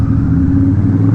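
A Honda Rebel 1100 motorcycle with its muffler removed gives a brief, steady, deep exhaust rumble close by, with no voices over it.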